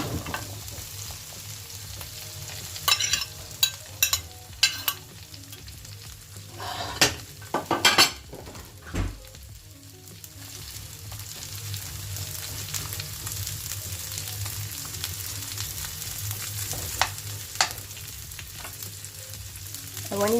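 Okra fries steadily in hot oil in a pan, a continuous sizzle running throughout with intermittent clinks and scrapes of a utensil against the pan, no voices.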